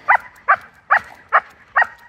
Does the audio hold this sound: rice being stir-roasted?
no